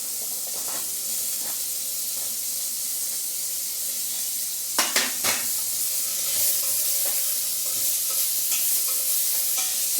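Drumstick pieces stirred and sautéed in a pan with salt while making hotel-style idli sambar: a steady close sizzle with soft scraping stirs and a brief cluster of sharper spatula knocks midway, no voices.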